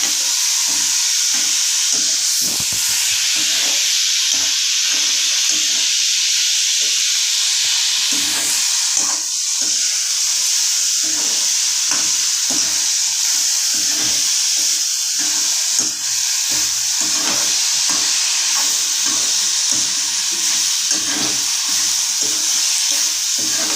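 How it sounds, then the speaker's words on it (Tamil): Mint, coriander and curry leaves sautéing in a hot pan, a loud continuous sizzle and hiss with a spatula scraping and stirring in rapid repeated strokes throughout, close up and without voices. "புதினா கொத்தமல்லி கருவேப்பிலை போட்டு இதையும் நல்லா உருளை வதக்கணும்."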